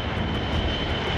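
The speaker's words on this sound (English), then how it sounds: "the Air Force is letting Keiko fly in this special transport plane" Air Force transport plane in flight, a loud, steady engine roar with a broad, unbroken drone heard from inside the cabin, with no voices.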